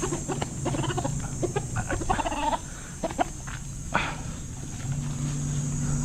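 Chickens, including young roosters (stags) nearly six months old, cluck and chatter at close range over a steady background hum on a farm.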